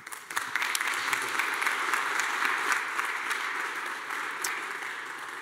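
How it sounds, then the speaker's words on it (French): Steady applause from a conference audience at a French master restaurateurs' congress, a dense patter of many hands clapping at moderate volume that holds evenly for several seconds. "on peut les applaudir de nouveau"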